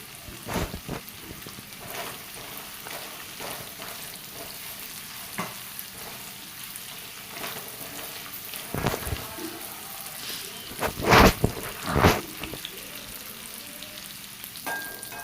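Paneer fries in a pan with a soft continuous sizzle, broken by irregular scraping strokes of a spatula stirring it, the loudest ones clustered near the end.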